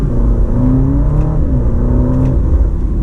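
2021 Alfa Romeo Stelvio Sprint SUV accelerating in first gear in dynamic mode, a loud cabin-heard engine drone with rising harmonic tones as revs climb, then easing briefly before climbing again.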